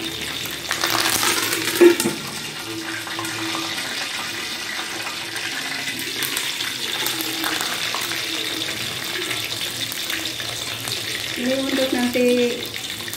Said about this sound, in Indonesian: akan goreng daun kari, tapi ini kena tutup nanti minyak kemana-mana